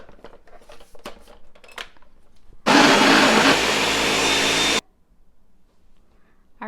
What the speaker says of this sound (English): And then you just blend this for 1 minute.